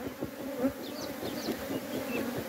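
Honeybees hum in a dense, continuous buzz around an open beehive during an inspection, with individual bees droning past close by. No one speaks.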